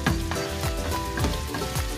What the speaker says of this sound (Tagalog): Igisa ko siya.